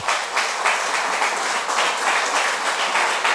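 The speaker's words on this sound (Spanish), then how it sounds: "Dale un aplauso al Papá Celestial." A church congregation claps steadily in praise during a sermon, a dense, even patter of many hands filling the room for a few seconds without a break.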